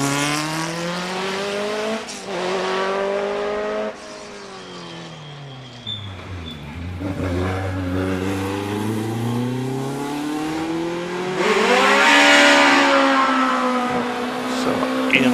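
A Lotus 23 sports racing car, number 53, climbs the Prescott hill climb course, its engine revving hard through repeated gear changes with rising and falling pitch, loud and close.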